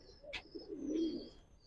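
A giribaj pigeon gives a single soft, low coo close by, rising and fading in about a second against quiet background hiss.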